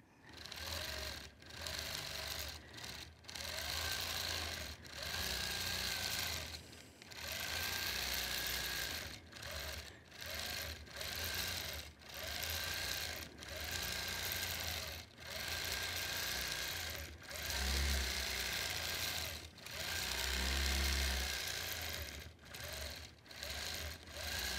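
Sewing machine stitching a quilt, freshly oiled and threaded, running steadily up close in bursts with short pauses, a low motor hum under a rapid needle clatter, with no talking.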